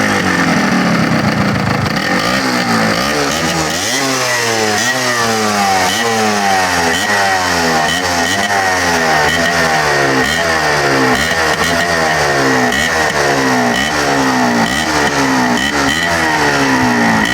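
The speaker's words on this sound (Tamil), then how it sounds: "தொடர்ந்து நாங்கள் இந்த பைக்கை வந்து ஸ்டார்ட் பண்ணி பார்ப்போம்" A radiator-cooled Yamaha DT 125 racing motorcycle engine fires up and revs repeatedly, its pitch rising and falling in a steady cycle of throttle blips, loud and close, with no talk.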